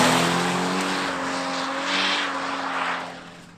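Subaru BRZ driving past with a steady engine drone and tire and wind rush, holding a sustained tone before the sound fades away near the end.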